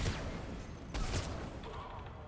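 Gunfire from a gun in the video game Mass Effect 3, a couple of sharp booming shots with a rough, crackling tail, heard fairly quietly amid dense game noise.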